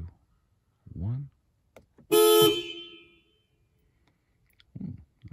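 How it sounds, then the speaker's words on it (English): A single loud blast from an aftermarket FARBIN car horn lasts about a second, sharp and close, with brief speech before and after it. "let's go ahead and give it a little honkity honk"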